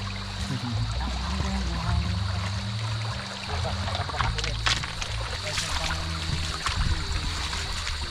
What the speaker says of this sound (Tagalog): Itong bukal na to, tuloy-tuloy to. Kahit summer.